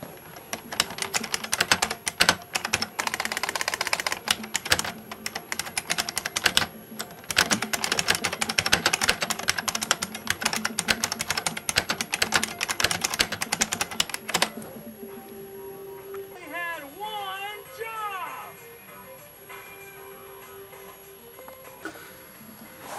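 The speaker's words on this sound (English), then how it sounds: "how about a demonstration of the IBM Model M keyboard sound?" An IBM Model M mechanical keyboard typed on continuously for about fifteen seconds, loud dense clacking keystrokes up close, then stopping and leaving quieter background hum with faint chirping.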